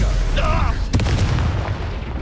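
A Stupefy spell blast bursts in the Hogwarts Legacy game, one booming impact arriving right after a shouted incantation and ringing over a low rumble, with voices during the combat.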